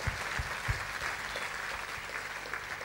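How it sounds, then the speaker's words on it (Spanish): A church congregation claps in steady, dense applause during a bilingual Spanish and Dutch sermon, with a few sharper claps standing out near the start, continuous and fairly loud throughout. "Geef een stevig applaus aan de Heer"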